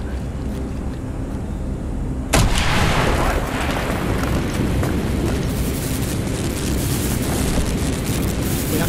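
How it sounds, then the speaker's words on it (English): A demolition charge in Call of Duty Black Ops blows a hole in a wall, a single sharp loud blast after a quiet lead-in, followed by sustained rumbling debris and noise. "Mason, blow a hole in that fucking wall."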